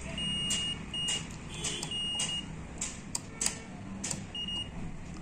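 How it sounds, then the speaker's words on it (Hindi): A multimeter set to its continuity buzzer range, probing capacitors on a TCL 40S6500FS TV board with a short fault, gives a series of short, thin, high beeps at uneven intervals over a low background hum. "दोनों तरफ बजर बज रही है"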